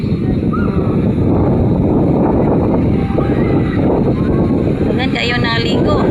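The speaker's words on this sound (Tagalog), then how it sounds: "Wow, kusog kayang hangin." Strong wind by the sea at Kawas in Sarangani province roars and buffets the microphone in a loud, continuous rumble, with a voice speaking under it.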